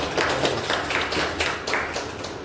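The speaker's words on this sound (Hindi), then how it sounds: "आज की मीटिंग के लिए एक जोरदार ताली होनी चाहिए आप सभी को।" A group at an office training meeting claps in a loose, steady burst of overlapping hand claps at moderate loudness, with little talk over it.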